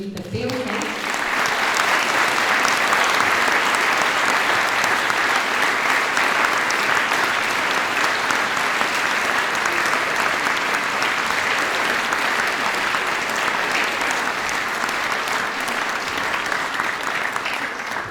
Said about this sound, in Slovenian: Tako da še en aplavz za naše čudovite pevke.